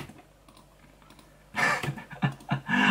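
Computer keys clack in a quick burst of typing and clicks close by, after a quiet start, while a chess lesson is given online.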